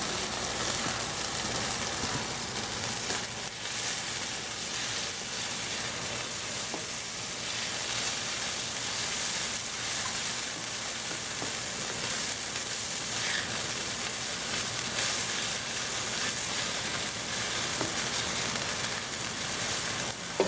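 Green onion sizzles and fries steadily in a hot pan for beef teriyaki noodles, a continuous close crackling hiss with no break.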